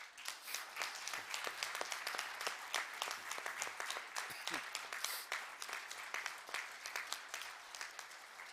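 A large crowd of congress delegates applauds steadily to approve a declaration, dense overlapping claps filling the room for several seconds with no talking.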